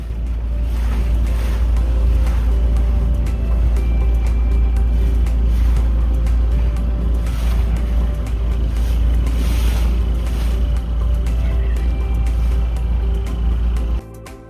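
A shikara boat engine drones loud and close on the Alappuzha backwaters, a steady low rumble with wind and water noise that cuts out abruptly near the end.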